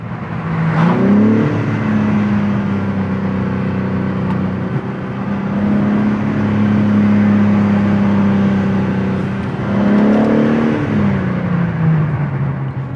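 A BMW M3 Competition G80 engine drones steadily from inside the cabin, swelling in two smooth revving rises near the start and again toward the end, with a constant low hum between.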